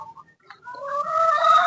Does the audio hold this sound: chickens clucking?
yes